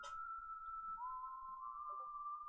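Whistling music used as a sound effect in a tabletop role-play session: one clean, faint whistled tone held steady, then stepping to a slightly lower note and sustaining to the end.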